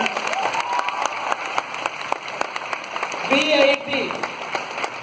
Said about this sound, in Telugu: అందరు ఒకసారి క్లాప్స్ కొట్టండి